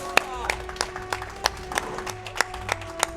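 A small audience claps sparsely after a precise wall-jump trick in a Prince of Persia: The Two Thrones speedrun at a live marathon event. A few sharp, evenly spaced claps, moderately close, over a steady background hum.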